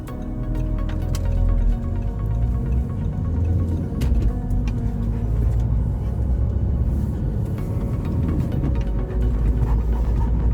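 Inside a car entering an expressway, a steady low engine and road rumble fills the cabin, with small knocks and rattles throughout and no talking.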